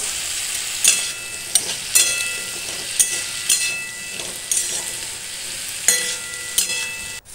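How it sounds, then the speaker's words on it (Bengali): Vegetables with turmeric, salt and sugar sizzle in a wok for a vegetarian bori dish, with sharp scraping stirs knocking in at irregular intervals over a steady close frying hiss. "কড়াইয়ে আমি হলুদ, লবণ আর চিনি দিয়ে দিলাম। এখন নেড়ে চেড়ে"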